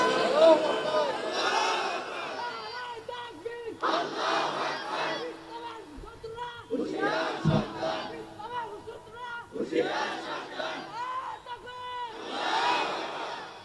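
A crowd at an Islamic waz sermon shouts takbir in loud, repeated, rhythmic chanted bursts, about five in a row, with brief pauses between them.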